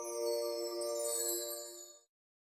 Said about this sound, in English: The phone rang for the 6th time before I could get my eyes open.